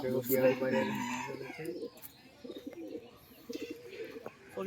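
Pigeons in a loft coo in soft repeated low calls, with bird chatter and a person speaking over the first part.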